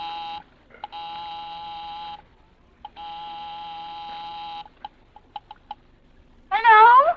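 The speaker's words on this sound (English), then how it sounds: "I'll give 9B a ring first on the house phone." Tone-dial house phone in an apartment building being dialed: long steady dialing tones, then a string of short beeps, ending in a brief warbling ring, close and clear with no talk.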